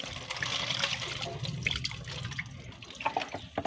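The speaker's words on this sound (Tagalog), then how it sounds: "lagyan natin ng tubig" Water splashing and trickling into a diaphragm-type carburetor part during cleaning, a steady close-up pouring and gurgling sound with small drips, no talking.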